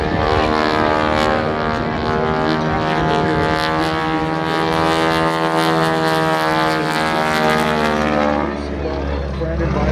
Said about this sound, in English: And the sound you hear is that Hamilton standard propeller.